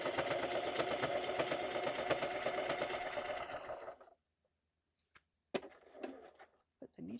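Sewing machine stitching through the layered pages of a junk journal, a steady loud mechanical whir for about four seconds, then stopping, followed by a few brief clicks and handling noises.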